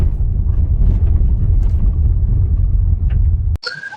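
A Hyundai Creta MY24 travels at a moderate pace over a rough dirt road, producing a loud, continuous low rumble of tyres and suspension throughout. The rumble drops away abruptly at the end.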